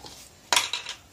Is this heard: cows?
no